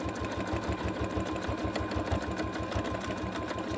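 A sewing machine stitches pieces for a collage quilt, running in a steady, rapid rhythm of close, loud needle strokes with no pauses.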